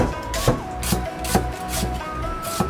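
A kitchen knife chops half an onion into long strips on a cutting board, with about six distinct, evenly spaced chops landing close and clear.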